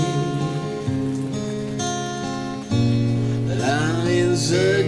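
Rain falls as a steady, close hiss of drops that runs throughout under loud music playing the whole time.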